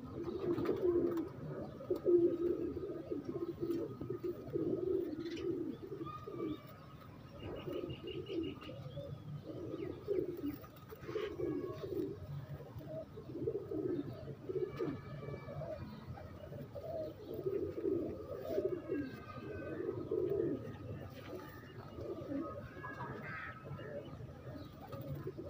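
Teddy pigeons, a breeder pair, cooing softly in repeated low murmuring phrases over about 25 seconds, with a few higher chirps and background activity; no clear talk over it.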